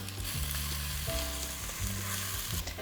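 Onions and garlic hit hot oil in a pan and sizzle loudly and steadily, with crackling bursts and a few scraping stirs, close up and with no talking.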